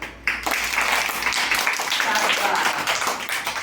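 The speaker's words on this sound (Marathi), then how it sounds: "आधी सगळ्यांनी टाळ्या वाजवा बरं" A group of children at a classroom game claps their hands together in a dense, continuous burst of applause lasting a few seconds, with voices mixed in.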